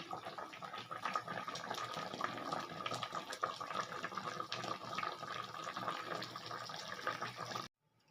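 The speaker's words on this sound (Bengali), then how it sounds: "ঝোলটা এবার আমি ধীরে ধীরে একটা পাত্রে ঢেলে নিলাম" Fish curry gravy (pabda fish jhal) being poured slowly from a pan into a bowl, a continuous close liquid trickle and splash lasting several seconds before stopping abruptly, no voices.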